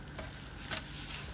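Vegan burger patties fry in a large greased skillet over medium-high heat, giving a dense, even crackling sizzle that stays close and steady throughout, with no speech.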